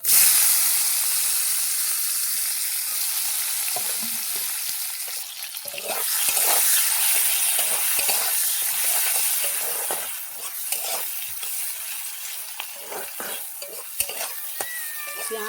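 Onions fry in hot oil with bay leaves, giving a loud, bright sizzle that surges when they go in and then settles into a steady crackle with frequent stirring.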